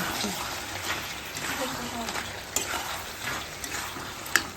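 Chicken pakoras frying in a home kitchen, a steady close sizzle with occasional stirring clinks and small pops, with faint background voices underneath.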